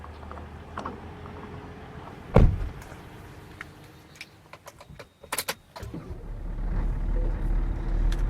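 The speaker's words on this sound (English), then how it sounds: "It sounds like you got on the truck and put the key in and turned it on." A truck being started with a key in a trucking game: a loud clunk from the key and ignition, then scattered clicks and rattles, and finally a low engine rumble that settles into a steady idle.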